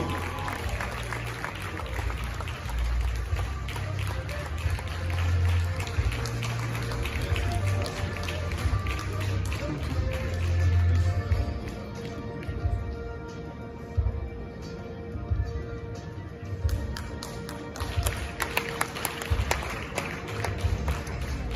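Sustained applause from an audience at a journalism award ceremony in Manhyia, a dense steady wash of clapping that runs throughout, with a voice talking over it.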